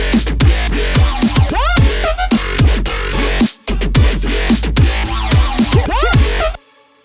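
Loud electronic drop section of a remix built in Ableton, with pitch-bending synth sweeps over heavy sub bass and pounding rhythm, a brief cut midway, then an abrupt stop near the end.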